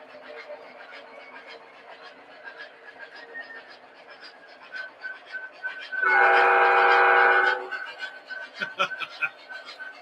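Model diesel locomotives run on a layout track, a steady mechanical hum with clicking and a sustained horn or whistle blast in the middle, followed by scattered clicks as they slow.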